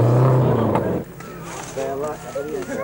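Rally cars, among them a Ford Escort, race past with a loud, close engine roar that drops away after about a second, leaving a more distant vehicle drone under voices and crowd chatter.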